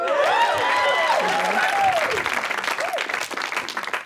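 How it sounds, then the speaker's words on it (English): A comedy-special audience breaks into loud, sustained applause mixed with cheering and whooping voices, then the clapping slowly thins out. "you can clap for that"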